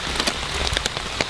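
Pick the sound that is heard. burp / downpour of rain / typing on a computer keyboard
downpour of rain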